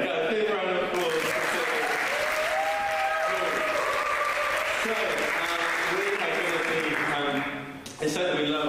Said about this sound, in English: Yeah, a big round of applause.